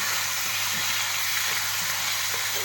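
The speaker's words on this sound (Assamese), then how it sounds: "লোকেল মাছ ভাজি আছোঁ।" Local river fish frying in hot oil gives a steady, dense sizzle with a crackling hiss, close and continuous, and nobody speaks.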